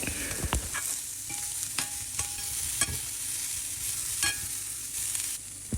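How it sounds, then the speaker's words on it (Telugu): Brinjal pieces stirred with salt and turmeric in a hot pan, a spoon scraping and tapping in irregular strokes over a steady low sizzle, with no voices. "పసుపు ఉప్పు బాగా కలిసేలా కలుపుకొని వంకాయ ముక్కల్ని బాగా మెత్తపడనివ్వాలి"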